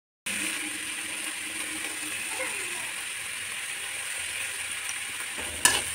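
Tomatoes with salt and ginger-garlic paste fry in a pan for baingan bharta, making a steady, even hiss of sizzling oil with a brief stirring scrape near the end and no talking.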